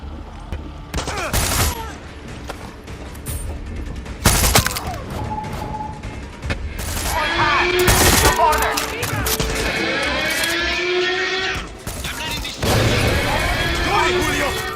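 Turret gunfire rattles from ships in the video game Far Cry 6, with loud bursts and heavy booms over sustained rapid firing, mixed with other game sounds.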